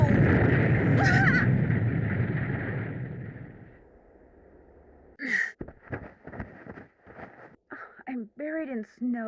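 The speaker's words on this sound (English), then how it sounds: "Sounded like an explosion." A deep, roaring explosion in the Nancy Drew game The White Wolf of Icicle Creek, set in snow, rumbles loudly and fades out over several seconds. Choppy gasping vocal sounds follow after a short silence.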